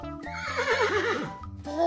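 A horse neighs in a single loud, close whinny with a quavering, wavering pitch, set among a short musical jingle from a children's animal-guessing game.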